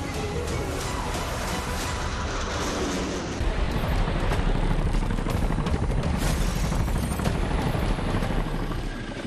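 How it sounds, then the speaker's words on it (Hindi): A powerful Chinook military helicopter flies during a Republic Day air display, its loud, steady rotor chop and engine roar continuous throughout and growing stronger partway through. "चिनूक यानी वो शक्तिशाली हेलीकॉप्टर"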